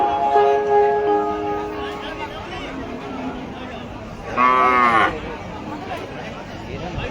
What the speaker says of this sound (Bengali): মিড রেঞ্জের বিরাট গরু ছাগল বেচা কেনার হাট